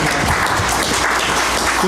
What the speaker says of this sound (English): Do you think we could give him an applause for that?